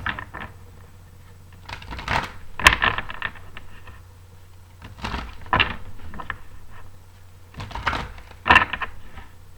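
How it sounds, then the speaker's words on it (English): Soft, quick riffling and snapping of tarot cards comes in a few separate bursts, with quiet pauses between each round of shuffling. "One more shuffle."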